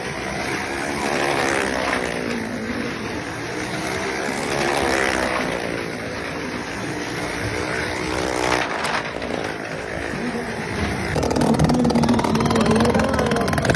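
Motorcycle engine revving during stunt riding in a circus show at the Bauphal village fair. The steady, loud drone continues throughout and rises in pitch toward the end.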